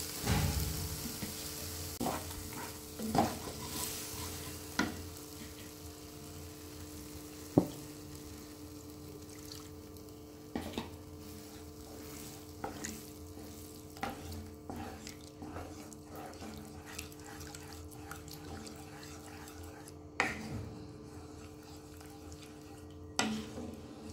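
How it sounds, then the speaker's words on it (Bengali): Milk poured a little at a time into a white sauce in a pan and stirred, a quiet low sizzle with soft drips and scattered light utensil taps against the pan, close and without talk. "অল্প অল্প করে আমি দুধ দিয়ে এটাকে ভালো করে করে নিই।"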